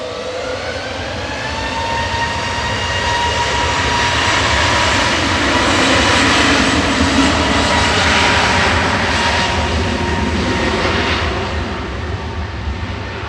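A new Airbus A321 jet takes off at Manchester Airport, its engines building to a loud, sustained roar with rising whine that holds and then fades slightly as it climbs, with no voices.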